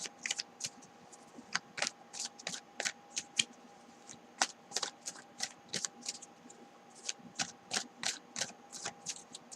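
Tarot cards being shuffled by hand for a reading, a quick run of crisp riffling snaps and flutters in irregular bursts, close and fairly quiet with no voice over them.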